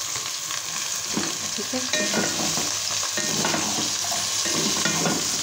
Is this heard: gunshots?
no